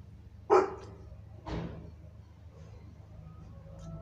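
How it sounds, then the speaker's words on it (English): A dog barks once sharply, then gives a second softer bark a second later, fairly close, with a low hum of the room beneath. "That was my dog, okay?"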